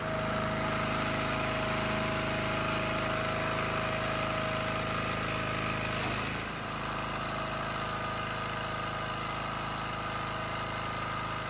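Small engine on a hydraulic wood splitter with a leaking ram, running steadily and loud, a constant droning hum whose pitch dips briefly midway as if under load, then settles back.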